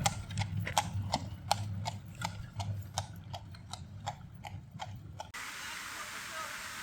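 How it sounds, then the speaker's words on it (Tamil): Hooves of a horse pulling a carriage clip-clop in a steady, even rhythm on pavement in Interlaken, Switzerland, moderately near, with faint voices in the background before the sound cuts off. "வந்தவர் போகிறாங்க பாரு, குதிரை வண்டியில்."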